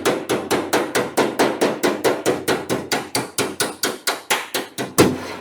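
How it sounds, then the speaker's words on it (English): A hammer strikes against a dolly while straightening the sheet metal of a 1965 Chevrolet C10 truck bed side, about twenty sharp, evenly spaced metallic blows ringing close and loud in a steady rhythm. "Remember the hammer and dolly set I bought, to work on the Jolly Green?"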